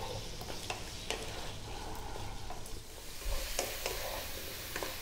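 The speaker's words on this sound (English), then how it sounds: "We're gonna drop in our potatoes first and we're gonna throw them around in the pan for about 4 to 5 minutes." Potatoes fry in sunflower oil in a pan over medium heat, a steady close sizzle broken by frequent scraping and stirring clatters, with no voices.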